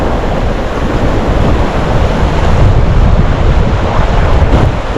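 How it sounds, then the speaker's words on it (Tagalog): Heavy floodwater and surf churn nonstop during Typhoon Inday, a loud, dense wash of crashing waves and rushing water mixed with strong wind buffeting the microphone, with no speech. "Ayun o, grabe yung tubig."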